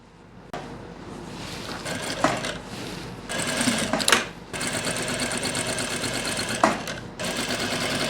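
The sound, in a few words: sewing machine stitching a zip onto pants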